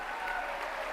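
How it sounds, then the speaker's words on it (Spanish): A congregation claps during a morning church service, a brief burst of dense, even applause at moderate distance with no voices over it. "Nuestro hermano Armando, le damos un fuerte aplauso en esta mañana."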